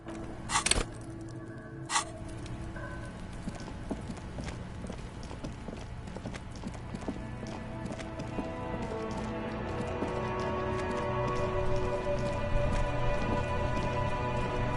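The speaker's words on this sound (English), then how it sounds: "It's raining again." Steady rain pattering in a video game, a soft continuous hiss of drops that slowly grows denser, with a couple of sharp clicks early on and no talk.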